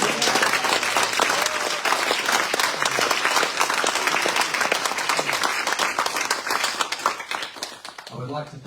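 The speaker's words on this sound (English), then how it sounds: "Can I just ask everyone to join with me one last time for a big round of applause" A crowd at an Australian citizenship ceremony in Whyalla claps loudly and steadily for new citizens, sharp individual claps standing out in the dense applause, with a voice briefly emerging at the end.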